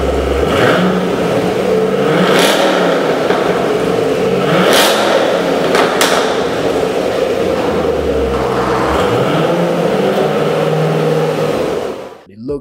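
Chevrolet Camaro ZL1 V8 engine running and revving in steady, loud surges across the whole stretch, with someone talking over it, before the sound drops away abruptly at the very end.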